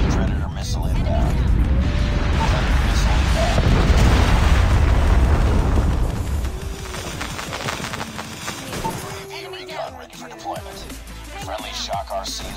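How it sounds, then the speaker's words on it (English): A Predator missile strike in a first-person shooter video game: a heavy, roaring blast that rumbles and crackles for several seconds, then fades into scattered pops, gunfire and game noise. "Friendly Predator missile inbound."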